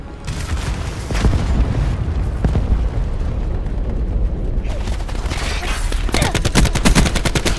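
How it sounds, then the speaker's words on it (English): Hellstorm missile strike amid heavy gunfire in Black Ops 4, loud booming explosions and sustained bursts of rapid machine-gun fire, ending in a fast rattling volley, with a voice briefly heard under the din. "Hostile hellstorm inbound."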